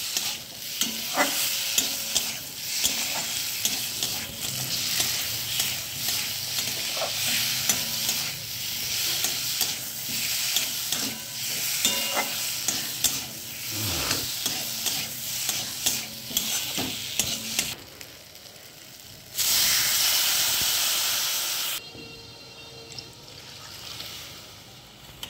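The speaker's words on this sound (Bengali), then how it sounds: "এবার আমি দিয়ে দেবো জল।" Water poured onto sizzling masala in a pan, then a spoon stirring the curry: loud crackling and frying with scraping strokes, a sudden hiss as the water hits the hot pan, then the sizzle quieting, close by, without talk.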